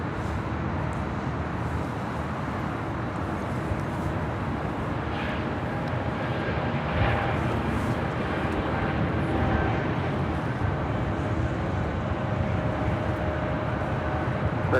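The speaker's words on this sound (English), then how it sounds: "we do have a Breeze Airways Flight 503 heading back to Jacksonville, Florida. It's an Airbus A220-300." A Breeze Airways Airbus A220-300 departing Los Angeles International Airport, a continuous, broad jet roar holding at a steady, moderately loud level for the whole stretch, with faint background rumble and no talk.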